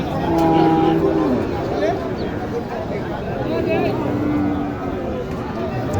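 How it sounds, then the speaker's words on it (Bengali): A cow lows at a busy Bangladeshi cattle market in Naogaon where cows are sold for Qurbani, with a drawn-out moo and then a second, softer one, heard under steady crowd babble and nearby talking. "এখানে একটি আছে গরু দেখেন"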